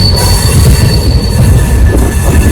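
LHB coaches of the Kochuveli–Yesvantpur Garib Rath Express rolling through a curve, wheels squealing with a sustained high whine over a heavy low rumble, loud and close, no voices.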